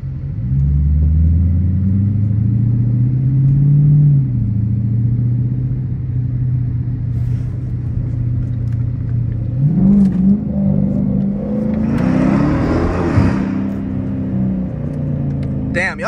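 Loud, steady blowing roar from the air conditioning inside a Dodge Challenger cabin, a constant whooshing drone with some rumble, while someone speaks over it.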